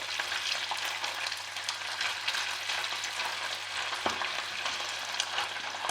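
Fresh cep mushrooms frying in a pan, a steady close-up crackle and sizzle of browning mushrooms with occasional stirring, no voices.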